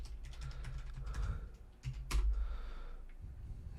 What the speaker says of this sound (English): if we type in our login, which is root, and then the password that you set up